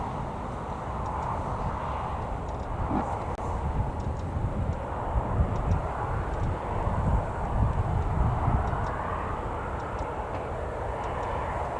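An EasyJet airliner passing at Newcastle Airport, a continuous broad jet engine roar that swells gently and holds steady for the whole stretch, with no voices.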